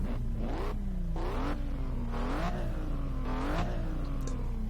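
Chevrolet Corvette C7 Stingray V8 in a racing video game with the roof off, revving repeatedly in rising sweeps with gear-change drops, a steady droning engine tone alone and close.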